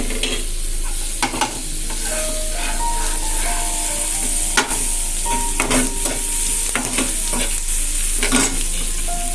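Food fries loudly in a pan at home while a utensil stirs it briskly, sharp scrapes and clacks breaking through a constant close hiss of hot oil, with no talking.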